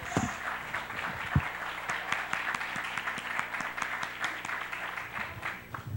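A church congregation claps in a dense, fairly even rhythm of many hands, heard at moderate distance and continuing throughout without voices over it.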